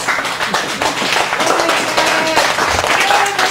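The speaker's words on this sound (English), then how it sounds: "so just give her a round of applause, please" Applause from a cabaret café audience for a performer, scattered and fairly close clapping that stays steady, with voices murmuring through it.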